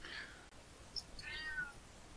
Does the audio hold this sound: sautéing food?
no